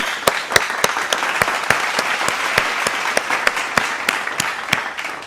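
An awards-ceremony audience applauds, filling the hall with steady, fairly loud clapping for about five seconds, with individual sharp claps standing out against the dense crowd noise.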